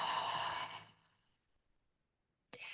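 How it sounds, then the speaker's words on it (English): A long, deep, slow exhale through the body fills the opening, broad and breathy, fading out by about one second into quiet, followed near the end by a brief fresh intake of breath. "take a nice, deep, slow breath in through your nose. And then let that breath out"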